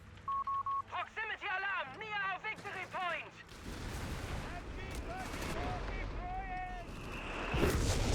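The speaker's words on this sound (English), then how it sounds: "such a painful barrage" An artillery barrage in the strategy game Company of Heroes 3 erupts as dense, rumbling bursts of gunfire and explosions that fill the second half, with a commentator talking over it.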